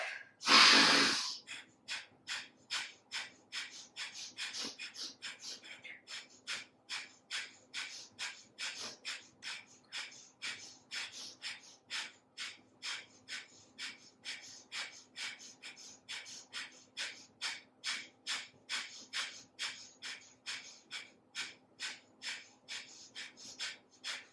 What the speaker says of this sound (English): So inhale, and then you pump the breath in and out of your nose, and go.